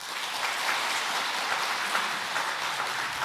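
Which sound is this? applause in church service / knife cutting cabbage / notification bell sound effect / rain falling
applause in church service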